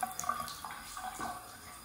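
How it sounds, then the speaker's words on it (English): Water runs from a waterfall faucet into a modern sink in a brand-new townhome bathroom, a steady soft splashing stream with small drips, quiet and close, with no talk over it. "The waterfall faucet."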